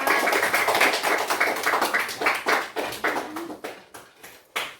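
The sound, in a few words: class applause, clapping hands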